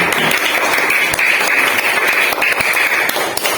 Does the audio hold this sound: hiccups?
no